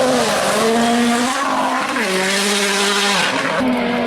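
A Toyota Yaris WRC rally car roars past loud and close, its engine note climbing and dropping through rapid gear changes with brief tire squeal, heard alone without talk.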